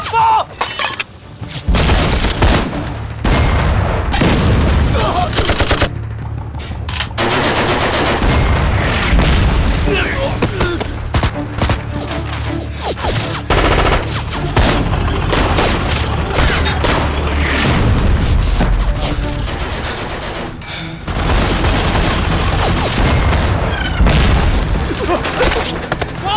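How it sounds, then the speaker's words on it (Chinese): Grenade launchers fire and explosions boom throughout a loud, dense battle scene from a Chinese war drama, with heavy blasts, mechanical clatter and layered combat noise mixed with shouting voices. "掷弹筒！ 瞄准目标，放！"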